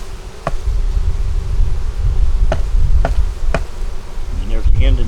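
Dense, steady buzzing of honeybees around a hive that has swarmed, loud and close throughout, with a few sharp knocks and clicks from handling the hive scattered over the hum.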